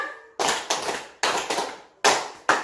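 A group claps in a counted clapping game, six crisp bursts spaced in an even, lively rhythm, near and fairly loud, with no voices between them.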